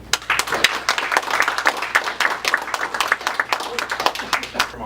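A town hall crowd in Chattanooga claps to vote no on Volkswagen plant workers unionizing, a steady burst of many hands, somewhat thinner and shorter than a full ovation, with voices mixed in.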